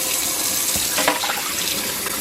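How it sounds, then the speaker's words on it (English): Tap water runs steadily into a kitchen sink during pasta cooking. The close, continuous splashing is broken by a few sloshes as hands move under the stream. "I'm gonna wash my hands."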